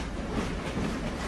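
Train cars rumble steadily along the rails, a continuous low, even roar with no voices.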